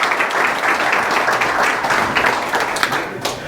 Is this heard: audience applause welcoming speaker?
yes